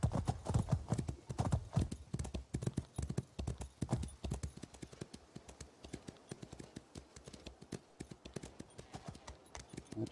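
A horse galloping in The Elder Scrolls Online, its hooves striking in a fast, rhythmic clip-clop that runs steadily throughout, loud and close at first, then slightly softer.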